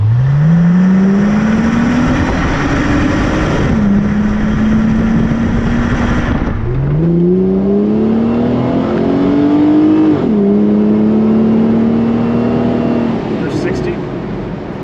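A 1999 Plymouth Prowler roadster's 3.5 engine pulls hard through the gears, rising in pitch, dropping at each quick shift and climbing again, loud and close from inside the car before easing off near the end.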